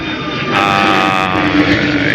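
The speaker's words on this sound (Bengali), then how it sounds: "আমরা দেখতে পাচ্ছি বিমানটি আকাশে উড়ে যাচ্ছে" An airplane passes overhead near Nikunja-1 by Dhaka's airport, a loud steady jet roar that swells and holds close, with no talking.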